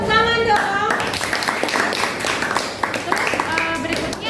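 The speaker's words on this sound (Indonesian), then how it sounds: "Oke, kasih tepuk tangan dong." A classroom of students clapping together, steady overlapping hand claps filling the room at moderate loudness, with a brief tonal sound at the start.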